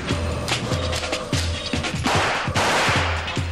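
Rapid bursts from a PP-2000 submachine gun, a plastic-bodied weapon firing about ten rounds per second, loud and close, with sharp repeated shots in quick succession and no talk.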